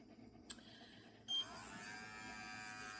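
Electric clipper buzzing steadily at close range as it lightly shaves between a dog's toes, starting after a brief click and humming on alone.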